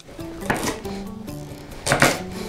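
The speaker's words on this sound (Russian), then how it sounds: "Нарезаем капусту, морковку, свеклу, лук" Knife chopping cabbage, carrots, beets and onion for Ukrainian borscht in a home kitchen, a few sharp board taps in two bursts over a low steady hum, with a voice talking in between.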